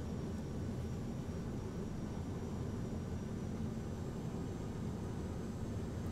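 Engines of a Ryanair Boeing 737-800 in a flight simulator, levelling off in flight, giving a steady, even broadband roar that holds unchanged throughout.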